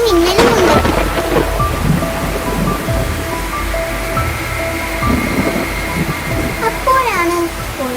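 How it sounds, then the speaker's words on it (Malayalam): Story sound effect of a night thunderstorm: loud rumbling thunder over heavy steady rain, with a voice and sound-effect tones layered on top during the rainfall. "ഇടിയും മിന്നലും ഉണ്ട്."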